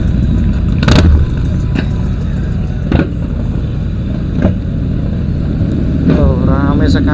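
A convoy of big motorcycles passes on a Bali road, a loud, close, rumbling engine drone with repeated surges as bikes go by, and a voice briefly heard near the end.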